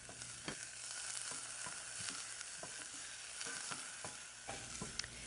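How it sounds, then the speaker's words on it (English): Onions soften in a pan for spaghetti squash spaghetti, giving a quiet, faint sizzle with intermittent stirring taps and scrapes of a spoon against the pan. "Now I'll stir that and let this cook until the onions soften for about 5 minutes"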